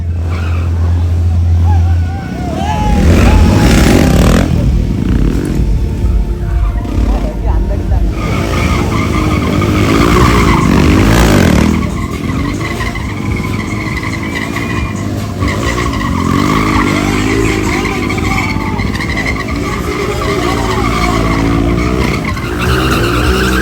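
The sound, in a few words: motorcycle stunts with tire skidding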